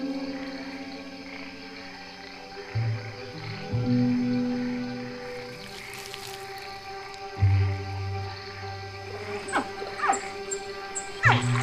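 Caiman hatchlings in a Brazilian wetland give repeated short chirping calls to summon their mother, scattered over a low background hum and rustling.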